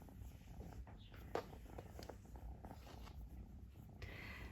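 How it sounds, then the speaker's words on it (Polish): A house cat purrs faintly up close, a soft low rumble with small rustles and one brief click, heard quietly without speech. "Zobaczcie, jak mruczy słodziak śliczny."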